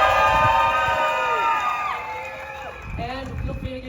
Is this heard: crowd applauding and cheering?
yes